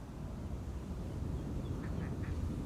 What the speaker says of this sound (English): I can hear a duck or two even.